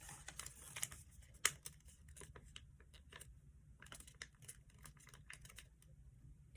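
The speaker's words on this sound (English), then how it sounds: "I'm just folding this flap over." Paper being creased and folded by hand while shaping a flap on a Hawkeye Alpha paper airplane, a quiet scatter of soft crinkles and sharp little taps with one brief louder snap, close and faint with no talking.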